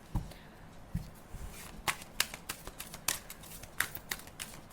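Tarot cards handled during a reading, with crisp snapping flicks and slaps from drawing and shuffling at an uneven pace, fairly close and fairly loud over faint room noise.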